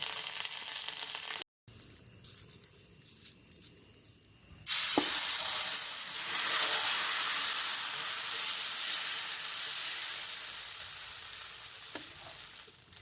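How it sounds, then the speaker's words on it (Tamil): Mustard seeds, dried red chillies and curry leaves hit hot oil for a tempering over pumpkin dosa batter, bursting into a loud, steady sizzle that holds for several seconds after a quieter kitchen start and a brief silence. "இப்போ தாளிப்பு கொட்டிடலாம். கடுகு, வரமிளகாய், கருவேப்பிலை."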